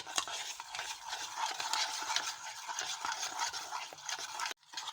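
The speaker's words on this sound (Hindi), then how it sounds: "इनको मैं अच्छी तरह मिक्स कर लूँगी" A spoon stirs a Russian salad mixture seasoned with salt and ground black pepper, giving a continuous close scraping and squelching that breaks off abruptly just before the end.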